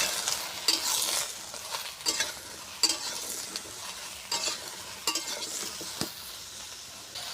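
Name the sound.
ridge gourd slices frying in hot oil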